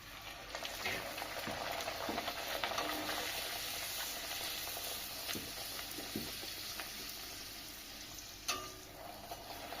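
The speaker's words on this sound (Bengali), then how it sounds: "লুচিগুলো একা একা বেলে নিয়েছি আর ভেজে নেবো কড়াই তেল গরম হয়ে গেছে" Luchi fry in hot oil in a wok with a continuous, moderately quiet sizzle, broken by occasional sharp clicks and scrapes of stirring.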